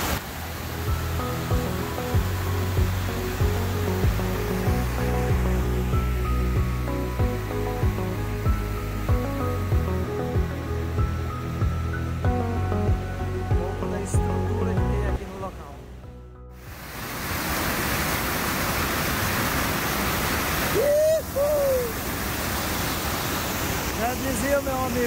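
Rhine Falls in Switzerland roars as a steady, loud broadband rush of falling water, at first partly under music and voices, then an unbroken close surge of spray and churning flow.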